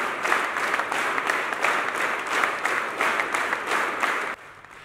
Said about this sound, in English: Participants engaged in a spirited clapping at varying intensities throughout the duration of the record-breaking event.